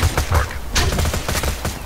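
Bursts of rapid gunfire in the Borderlands 2 video game, several close, loud volleys rattling in quick succession over a short stretch.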